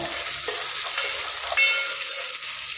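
Shallots fry in a hot pan for tamarind eggplant curry, giving a close, steady sizzle broken by a couple of scraping stirs, with no voices.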